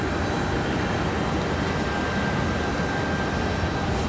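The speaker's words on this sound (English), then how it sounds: "we do have a departure here. It's not up on flight radar. Looks like a CRJ possibly." A CRJ regional jet departs Raleigh-Durham International Airport, its engines a steady, broad roar with a faint high whine, holding level throughout with no talk.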